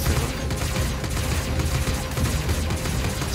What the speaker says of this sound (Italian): Sparo solo da un'arma laterale, basta, da un cannone laterale.